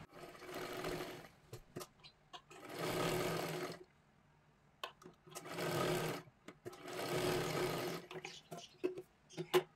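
A sewing machine stitches blouse fabric in four bursts of several seconds each, with quiet gaps and small clicks of handling between them; close, no talk.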